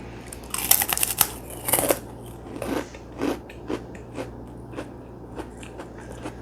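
Someone bites and chews crunchy kerupuk crackers up close, giving a series of sharp crisp crunches that come in bursts and then fade into softer chewing crackles.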